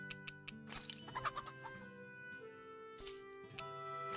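Chicken clucking in the video game Tales of Arise, a few short close clucks and chirps over game music with steady tones and no talk.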